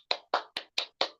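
Five crisp, sharp hand claps in a quick, even rhythm, each about a quarter second apart, close and moderately quiet, with no one talking.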